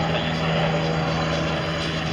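A combat helicopter flying aerobatics at a world aerobatics championship air show in Châteauroux, a loud steady engine and rotor drone with a constant hum, close and unbroken throughout.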